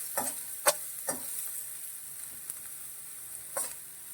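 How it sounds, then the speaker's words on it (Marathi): Onion frying in a pan on low heat, a faint steady sizzle broken by a few soft scraping stirs of a spoon. "बघा, कमी आचेवर सुद्धा कांदा पटपट असा गुलाबी रंगावर येतो"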